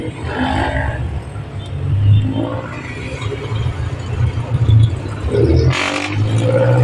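Loud, low rumble of passing vehicles and engine noise, steady throughout with a brief swell near the end.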